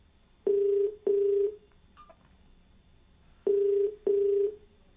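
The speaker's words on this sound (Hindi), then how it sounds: "फ़ोन लगाते हैं अपने पहले कॉलर को" Telephone ringback tone on a call placed to a caller for a TV call-in show, heard as two pairs of steady electronic double-rings separated by a pause, clear and alone.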